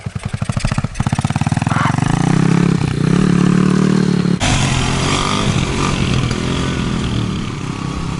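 A dirt bike with a clutch starts with rapid popping bursts, then revs up into a loud, rising engine whine that dips and climbs again as it rides close by, with a voice briefly heard.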